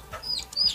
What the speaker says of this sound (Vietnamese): Wow, vậy là gà quá trời gà đây